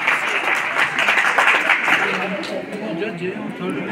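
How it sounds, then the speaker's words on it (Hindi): An audience at a state-level drama competition applauds loudly and steadily throughout, a dense wash of clapping that stays strong for the full few seconds. "आपकी जोरदार तालियों के बीच में"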